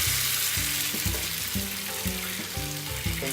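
Potato rösti mix sizzles and bubbles steadily in a hot frying pan, a loud continuous hiss that stays close and constant throughout, with no voices.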